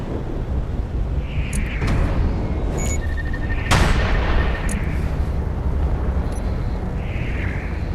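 Turrets on a Visby-class corvette in Space Engineers fire in a sustained barrage, rolling booms and sharp cracks over a constant heavy rumble, with a few high metallic pings and whooshes.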